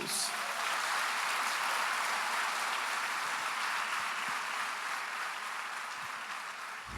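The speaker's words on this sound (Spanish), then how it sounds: "Dele un aplauso a Jesús." Sustained applause from a church congregation at an anniversary gathering in Victoria, a dense even wash of clapping that carries steadily throughout and tapers slightly at the end.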